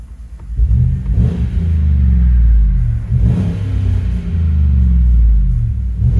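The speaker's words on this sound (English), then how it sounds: "Just did a muffler delete." A 2015 Chevy Tahoe with a 5.3L V8 and a muffler delete, heard from inside the cabin, gives loud, deep exhaust rumble that swells through several revs and holds a heavy, steady drone.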